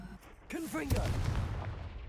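In the Hogwarts Legacy video game, a voice calls out a short word, then a Confringo spell blast hits as a sharp booming burst that fades into a rumbling decay.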